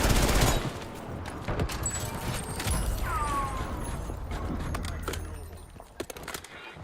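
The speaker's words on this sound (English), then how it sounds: "I'm shooting at the dude in there." Video game gunfire erupts in rapid, dense automatic bursts at close range, with a sharp opening volley followed by continuous rattling shots and scattered mechanical clicks.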